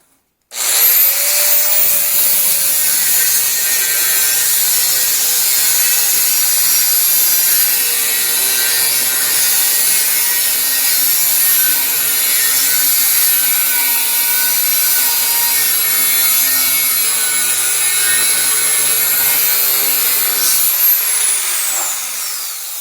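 A metal tank being cut open with a torch: a steady, loud, continuous hissing roar with a high whine, running unbroken for about twenty seconds before cutting off, no voices.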